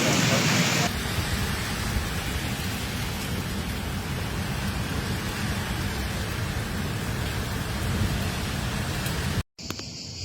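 Heavy rain pours steadily in Milan, a dense, loud hiss that continues without a break before cutting off abruptly near the end.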